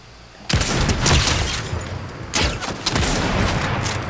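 Dense bursts of gunfire and blasts in the video game Fortnite during a sniper fight, loud and continuous with a couple of sharp impacts, no talk over it.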